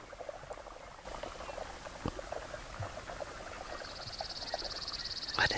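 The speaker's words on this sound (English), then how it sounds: "They're running on the water." Ducks running and splashing across the water at a primitive campsite, a soft rapid patter of many small splashes spread over the whole stretch, with bird calls and a high steady insect-like tone joining near the end.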